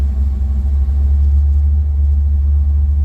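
A vehicle engine idling loud and close with a deep steady rumble, the throttle touched lightly for a slight rise in revs, with no voices over it.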